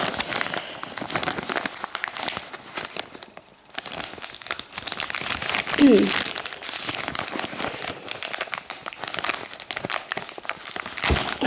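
A well-sealed parcel is torn open by hand without scissors, producing close, continuous crinkling and rustling of wrapping with a sharper rip midway.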